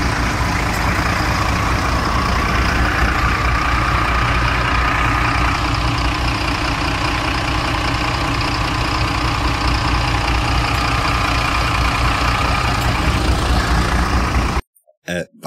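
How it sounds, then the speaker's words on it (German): Heavy old city bus engines in Hamburg idle steadily with a deep, continuous rumble that runs unchanged for most of the clip, then cuts off abruptly. "Warum stehen da jetzt alle Busse mit laufendem Motor?"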